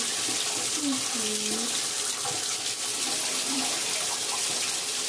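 Water streams steadily from a tap into a bath while a puppy is being washed, a constant close hiss and splash, with soft murmured speech underneath.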